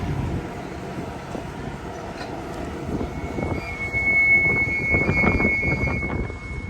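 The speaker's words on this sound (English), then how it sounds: "just going to wait for the train to show up" The historic Grand Canyon Railway train rolls in on the tracks, a steady low rumble with metallic wheel squeal and a high sustained screech building as it nears.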